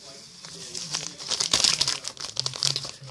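Cardboard candy box for sour powder candy being opened by hand, with crinkling and tearing of packaging in irregular bursts, close and moderately loud, with some speech-like sounds mixed in.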